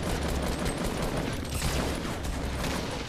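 Continuous, dense Fortnite gunfire, rapid overlapping shots from several weapons forming a steady loud crackle throughout, with no voices.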